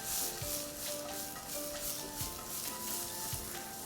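Onions, garlic and green chilies sizzle loudly in hot olive oil, a steady close crackling hiss with a few soft stirring knocks as they are tossed.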